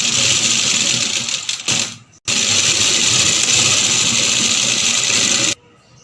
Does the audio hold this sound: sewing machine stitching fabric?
yes